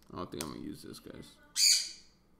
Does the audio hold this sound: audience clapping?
no